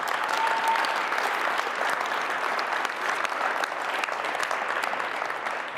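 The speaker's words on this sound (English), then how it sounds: "Let's give Carolina a round of applause." A crowd at a high school sports signing day applauds steadily, a moderately loud, even wash of clapping that carries on without a break.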